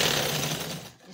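A sewing machine stitches a poncha with a fast, loud, close whir that stops shortly before the end.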